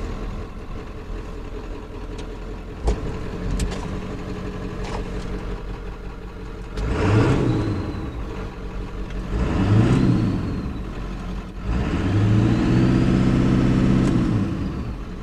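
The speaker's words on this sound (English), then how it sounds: "I don't know if you can hear that whistling over top of the exhaust note" A Ford OBS truck engine fitted with a new downpipe idles, then revs in three rising and falling bursts, its exhaust note loud and close with a faint whistle riding over the top.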